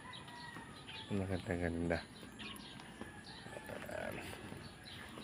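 Gamecocks, or fighting roosters, kept outdoors: a single clear crow rings out near the start, then a few softer clucks follow, with a person talking quietly in the background.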